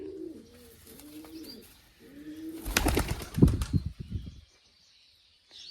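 A pigeon coos softly a few times, then is released and bursts into loud, rapid wing flapping close by that fades as it flies off, leaving near silence.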